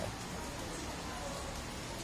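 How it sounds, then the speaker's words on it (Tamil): Steady rain falling at night, a dense even hiss that fills the whole clip at a constant level with no voices. "தற்பொழுது மழை தொடங்கி இருக்கிறது"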